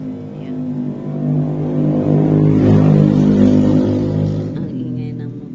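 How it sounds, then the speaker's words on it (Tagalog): Motorcycle engine passing on a road right beside a small sari-sari store at night, a loud steady motor drone that swells and fades over several seconds. "Ang ingay ng motor."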